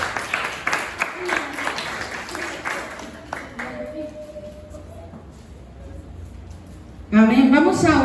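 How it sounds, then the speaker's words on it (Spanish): Congregation applause during a church service, a steady spread of clapping under a voice for several seconds, fading out before a loud burst of singing or speech at the end. "démosle un fuerte aplauso a Dios por su vida"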